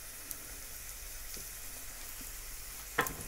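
Red mullet fillets fry in a pan with a steady, quiet sizzle, a faint continuous crackle with a few soft pops and one sharper spatter near the end.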